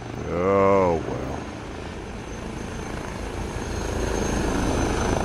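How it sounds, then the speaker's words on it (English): Rotor thrum of an H160 helicopter in a VR flight video game, a steady broadband whir running the whole time behind a brief burst of talk near the start. "there's my chopper with no landing gear."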